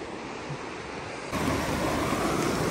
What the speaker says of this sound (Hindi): और भाई अभी यहाँ पे रिवर देखो